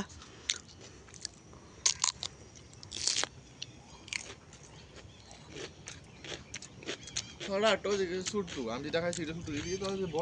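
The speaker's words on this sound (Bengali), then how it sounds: "এই দেখো শশা চুরি করে খাচ্ছে, এত বড় শশা।" A large stolen cucumber is bitten and chewed up close, wet crunchy bites and chewing noises coming in irregular bursts while a voice talks over them.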